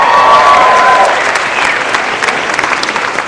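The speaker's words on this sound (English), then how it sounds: "Give yourselves a round of applause." A crowd applauds loudly at a university winter commencement ceremony, the clapping gradually thinning out over a few seconds.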